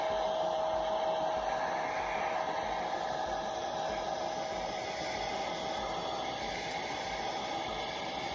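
A hair dryer blowing warm air over battery hens during their care, a steady, loud, continuous whooshing hiss with a faint motor whine that holds unchanged for over eight seconds, with no voices.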